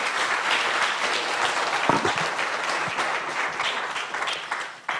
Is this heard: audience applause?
yes